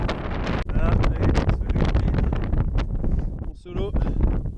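Gusty wind roars across a climbing route on the Isle of Skye, a dense, steady buffeting rush with sharp bursts that blasts the microphone almost without pause, and voices murmur faintly beneath it.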